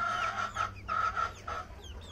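Hens clucking on an egg farm, several short bursts of close clucks in quick succession over a low farmyard hum.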